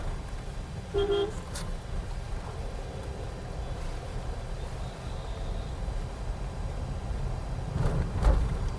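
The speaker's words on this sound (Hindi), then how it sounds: "यहाँ पे बहुत ज़्यादा ट्रैफिक है" Heavy road traffic in Rishikesh, with a constant low rumble of engines and a couple of short car horn toots, one early and one near the end.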